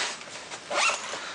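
A zipper on a pocket of a laptop backpack is pulled, giving a close, rasping zip that swells in the middle and then trails off, with no talking.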